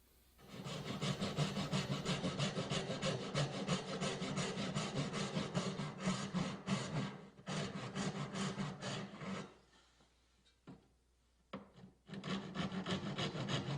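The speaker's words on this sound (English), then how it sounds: "Now I'm removing waste with the back saw" A back saw cutting waste from an oak dovetail joint, rapid rhythmic rasping strokes through wood, close and steady for about nine seconds, then pausing with a few short strokes before resuming.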